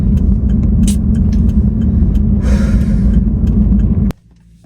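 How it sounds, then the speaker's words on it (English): Road traffic heard from inside a car: a loud, continuous low rumble of passing vehicles with a brief hiss of air brakes midway, cutting to near quiet at the end, with no talk. "I'm waiting for traffic there to clear."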